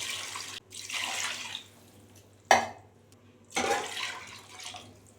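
Water pours in bursts into a rice pot, three separate splashing pours with quiet pauses between them, close by.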